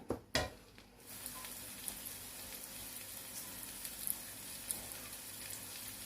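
Hot oil sizzles in a continuous, dense hiss as ingredients are stir-fried for a northern Thai chicken curry, preceded by a couple of clattering knocks at the start.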